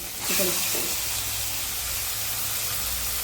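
Chicken pieces drop into a hot pan of onion, tomato and ginger-garlic paste, setting off a loud, steady sizzle and hiss that carries on after a brief voice at the start.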